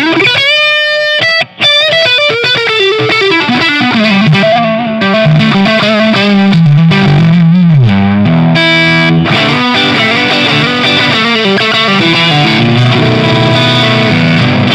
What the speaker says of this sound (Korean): 픽업 드라이브 사운드입니다